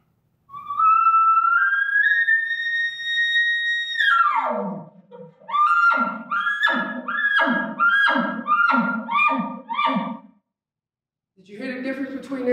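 An elk call imitated by a person: a rising drawn-out whistle-like bugle, then a run of about eight elongated, evenly spaced grunts, close and loud, with a brief further burst after a pause.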